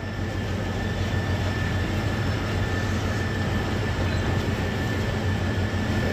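A Karachi Circular Railway train pulls away from Dhabeji station with a steady, loud, continuous rumble and rolling clatter of wheels and carriages, close by and unbroken by speech.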